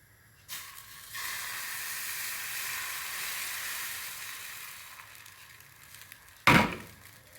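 Baghrir batter, the semolina pancake, sizzles and hisses steadily in a hot pan for several seconds, then fades. A sharp knock or clatter comes near the end.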